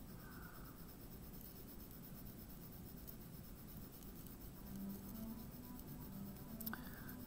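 Colored pencil shades across textured paper in steady, close strokes, a soft continuous scratching with faint rhythmic rubbing and a small tap near the end.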